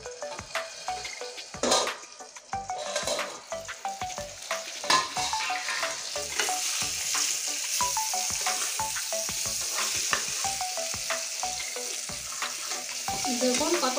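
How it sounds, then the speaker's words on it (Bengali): Potatoes frying in a pan for a thin chicken curry, a constant crackling sizzle broken by frequent scraping stirs and spatula knocks against the pan, close and fairly loud, no talking. "মাংসর আলু একটু লাল লাল করে ভাজতে হবে"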